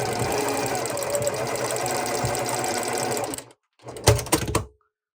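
Sewing machine stitching quilt block pieces together: a steady, close, rapid mechanical whir runs for several seconds, stops, then gives one short burst of stitching before falling silent.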